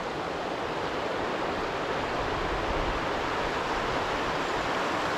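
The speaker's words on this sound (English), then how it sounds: "You can see there's the weir." River South Tyne water pours over a weir in a steady, dense, full rushing roar that stays constant throughout, with no voices.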